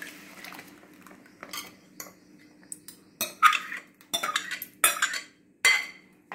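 Tomato sauce batter stirred in a hot pan as it thickens, with close spoon scrapes and metallic clinks against the pan in irregular bursts over a quiet background.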